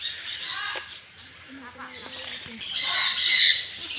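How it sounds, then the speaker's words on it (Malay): Harsh, shrill squawks from a parrot, loudest near the end, with scattered chirps and some voices in the background. "Small parrot."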